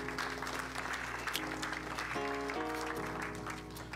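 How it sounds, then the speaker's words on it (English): A church congregation claps in praise at the close of a Sunday service, with steady, moderate applause running under sustained organ or keyboard chords that shift partway through. "Let's give God a hand clap of praise."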